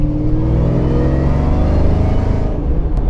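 Kenne Bell 2.1L Flowzilla supercharger on a Foxbody Mustang 5.0, a steady loud engine drone with rising whining tones layered over it, continuous and close throughout.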